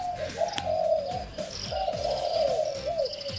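A spotted dove coos repeatedly in a steady, low, rhythmic series, close and clear, with faint chirps from other birds in the background.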